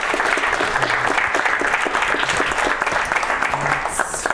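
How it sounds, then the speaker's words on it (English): Audience applause for speaker Jesse at an accessibility meetup in New York, a dense, steady burst of clapping from a modest crowd with faint voices underneath. "Let's give a round of applause for Jesse."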